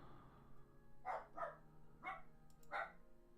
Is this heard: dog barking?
yes